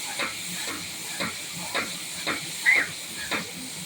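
A spice paste with green chili paste fries in a pan while it is stirred for a Bengali Malabar spinach dish. A steady sizzle carries a regular stirring scrape about every half second.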